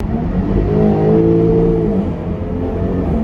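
A Jaguar F-Type V6 engine revs inside a tunnel, a steady, rumbling drone that swells slightly and echoes, heard continuously at moderate distance with no voices.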